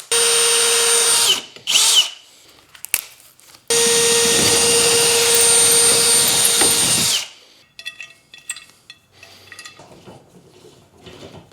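A power drill with a metal drill bit whines loudly boring into metal in two bursts, a short one and a longer sustained run, with clinks and handling noises in the pauses.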